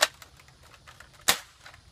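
Modded Nerf Tri-Strike blaster firing darts: two sharp, snappy pops about a second apart, close and fairly loud, with faint mechanical clicks in between.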